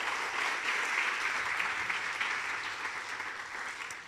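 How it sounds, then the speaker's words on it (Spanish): A church congregation applauds strongly during a service, a continuous dense wash of many hands clapping, fairly even in level and heard alone without talk over it. "Démosle un fuerte aplauso al Señor."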